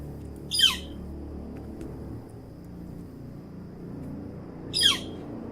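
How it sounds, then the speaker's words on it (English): Two sharp, descending bird calls from a Northern Flicker woodpecker, spaced about four seconds apart, ring out clearly over a low, steady outdoor rumble. "So if you're wondering what a Northern Flicker is, it's this bird right here."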